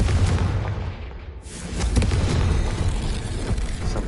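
A Confringo fire spell goes off in the video game Hogwarts Legacy, a loud booming explosion followed by a rumbling roar that slowly fades.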